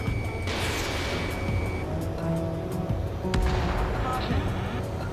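Missile launch in Ace Combat 7: Skies Unknown, a sharp whooshing burst that sweeps downward and fades, with a second blast a few seconds later over a constant roaring jet-engine drone.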